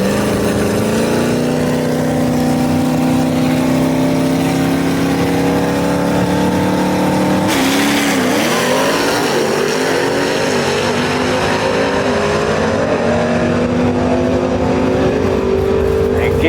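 A vintage gasser drag race between a Ford Falcon and a Pontiac, engines roaring loudly and steadily up close, their pitch shifting sharply midway as the cars launch and accelerate, with an announcer talking over the din.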